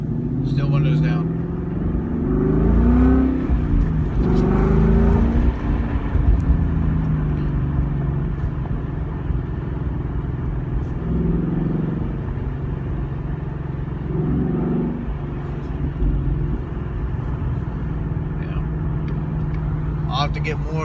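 A 2015-18 Ford Mustang with a Corsa Sport exhaust pulls away hard with the windows down, its low exhaust rumble surging in a couple of bursts before settling into a steady cruise over road noise, with a voice talking at times.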